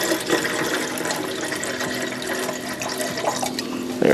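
Water pours steadily into a Pathfinder French press pot, a continuous close rushing fill that brightens and grows louder at the very end.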